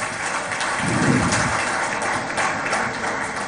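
Applause at the Zee Business India's Best Market Analyst Awards for Maharashtra Chief Minister Devendra Fadnavis: a continuous, rain-like roar of many hands clapping, loud and even from start to finish.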